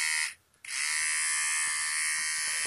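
A Gold Master Star nose hair trimmer motor runs with a steady, high-pitched electric whine, briefly cutting out near the start before resuming strongly and continuing alone at close range.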